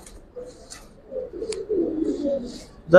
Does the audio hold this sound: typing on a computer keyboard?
no